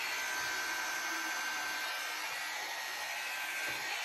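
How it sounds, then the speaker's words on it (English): A hot air brush blows steadily on low while combing through a wig, a constant close airy whoosh with a faint motor hum that stays even throughout. "the hot airbrush and I kind of comb through it before I even turn it on with the rolling."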